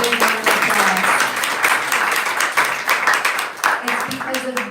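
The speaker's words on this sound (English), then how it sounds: "Let's give them a big round of applause." A crowd claps loudly and continuously at a Bhagavad Sravanam gathering, with voices talking over the applause throughout.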